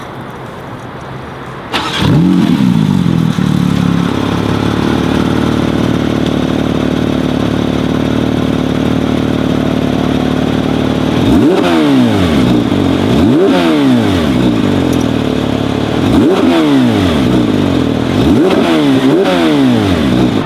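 A stock 2022 Porsche 911 GT3 (992) engine cranks and roars to life, then idles loudly and steadily, with several sharp revs rising and falling near the end.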